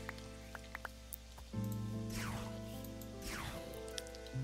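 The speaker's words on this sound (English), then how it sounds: "It's always raining." Soft, steady rain patters in Minecraft with the FTB Inventions modpack, a faint wash under game music with occasional drips and no talking.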